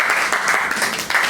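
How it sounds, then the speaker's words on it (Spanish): A brief, loud burst of audience clapping for Miguel at a talk in the Vallejo bookstore, many hands applauding together in a short, dense patter. "Un aplauso para Miguel."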